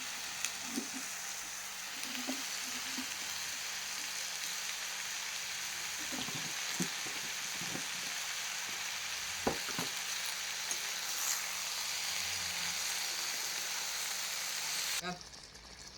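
Sweet-sour mango pickle with long mango pieces simmers in a pan under a constant soft sizzle, while a utensil slowly stirs with occasional quiet scrapes and knocks; fairly faint throughout.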